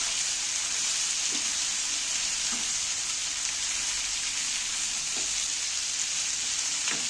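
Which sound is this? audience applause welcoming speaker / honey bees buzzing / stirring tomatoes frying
stirring tomatoes frying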